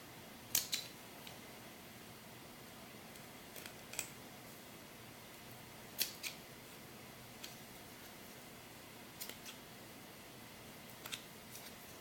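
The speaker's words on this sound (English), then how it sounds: "cut all your threads" Scissors snipping loose threads on a handmade historical doll ball gown, a few sharp, isolated clicks spread unevenly over a quiet, hissy room with no one talking.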